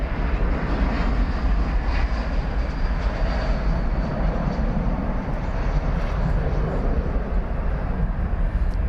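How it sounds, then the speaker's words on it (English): A steady, loud, broadband engine roar fills the air as an Airbus A321 airliner departs DFW Airport, sustained and even throughout with no talk. "It's an Airbus A321, one of the 319 Airbus A321s."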